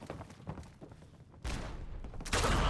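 Grenade blast and gunfire in the video game Fallout 4: scattered pops give way to two sudden loud bursts of broadband noise, the second even louder, ringing on without speech.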